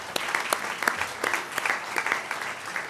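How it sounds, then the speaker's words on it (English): Scattered clapping for two women at a legislative delegation meeting, a modest group of hands producing sharp, uneven claps that keep a loose rhythm for about three seconds, moderately near with no talking. "let's stop and give them an applause at this point"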